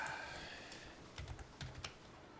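Someone types on a computer keyboard, a few soft scattered keystrokes that are close but quiet over a faint room hiss, with no talking.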